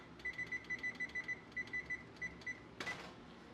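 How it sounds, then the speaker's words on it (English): Kitchen timer being set for 20 minutes while baking pumpkin bites, a quick run of about a dozen sharp, bright electronic beeps in an uneven rhythm, then a short rustle, close and alone. "20-minute timer."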